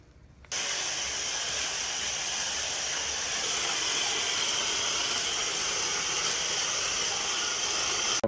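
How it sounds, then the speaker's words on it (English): Wheel and tire cleaner sprayed onto car wheels and tires, as a sudden, steady, close hiss that starts after a brief pause and continues unbroken to the end. "we're gonna spray this on the wheels, and we're gonna be using this on the tire"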